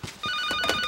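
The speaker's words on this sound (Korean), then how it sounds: "전화 왔어요" A telephone rings in a surgical clinic office, a brief electronic trill that starts abruptly and holds steady, heard alone without talk.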